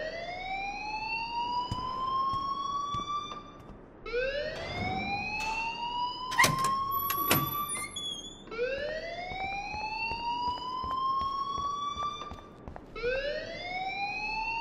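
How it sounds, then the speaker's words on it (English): A school alarm in Life is Strange wails in long rising sweeps that repeat steadily and loudly, with a few sharp clicks and clatters partway through. "please turn off that alarm since that's your job"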